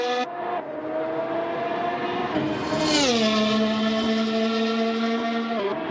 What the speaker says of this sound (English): I like the engine sound of this car a lot